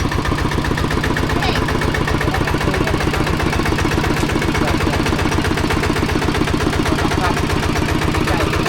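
A souped-up car's engine drones steadily and loudly throughout, an idling-to-revving mechanical rumble with voices talking over it.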